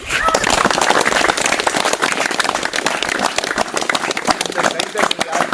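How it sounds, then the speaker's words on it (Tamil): A crowd claps loudly and steadily at a Tamil gathering celebrating soldiers picked in an army recruitment drive, the sharp claps sustained throughout with voices mixed in beneath. "முதல்ல ஒரு கைத்தட்டல்."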